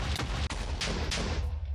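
Dynamite blasts in the Minecraft video game, played with the Twilight Forest mod: a quick run of muffled, crackling booms and rumbles at low volume, with no voices.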